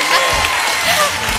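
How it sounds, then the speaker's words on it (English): A church congregation claps and cheers in celebration after a man rises from a wheelchair he has used for five years, dense applause with shouts layered over it throughout. "Clap for Jesus."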